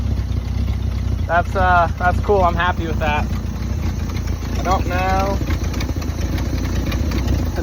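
A 1968 International Loadstar truck engine idles steadily and loudly up close, a low rumbling drone throughout, while someone talks briefly over it.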